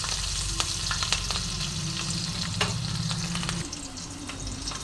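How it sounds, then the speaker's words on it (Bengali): Nigella seeds and green chillies sizzle in hot oil as a tempering for a Bengali dhela khoyra fish recipe, a close, steady, dense frying hiss with faint stirring clicks that eases slightly toward the end. "এবার একটু কালো জিরে আর কাঁচা লঙ্কা ফোড়ন দিলাম।"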